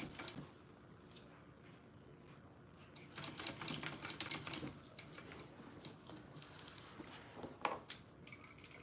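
A home sewing machine stitches a zipper with a 90-degree turn, giving quiet bursts of fast mechanical whirring and ticking that start and stop in short runs in a calm room.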